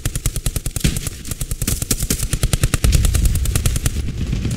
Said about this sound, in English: Oh, there is a machine gunner.